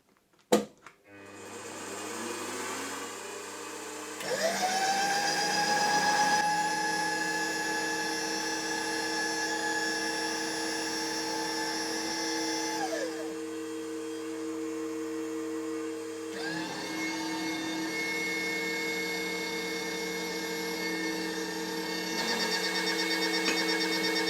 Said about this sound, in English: I'll be doing some more work on the lathe to create this split rod end bushing, aka the big end bushing.